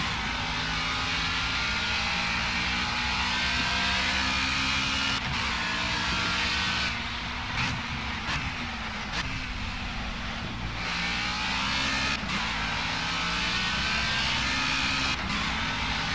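A race car in the Project Cars video game driving downhill at Donington, with a loud, continuous engine drone shifting pitch through gear changes and brief lifts over bumps across the whole stretch.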